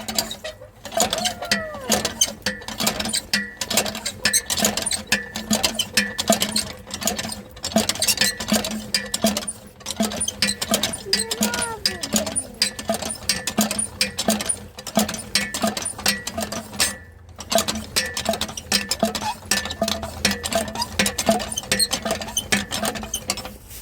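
A partly broken hand-operated water pump at a spring beside a lake is worked by hand, giving continuous rhythmic creaking, squeaking and metallic clanking for the whole stretch, close and steady.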